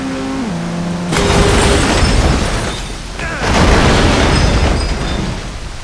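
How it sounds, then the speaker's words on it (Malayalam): A big car crash in a video game lands as two loud, booming impacts a couple of seconds apart, each followed by a roaring rumble that fades back toward the background, with no talk. "ഒരു ബിഗ് ആക്സിഡന്റ്."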